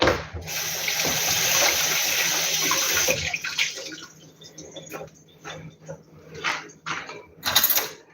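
Hands rinsed under a running kitchen tap while drop doughnuts are made for Christmas: a steady rush of water for about three seconds, then it cuts off, leaving scattered clicks and light clatter nearby.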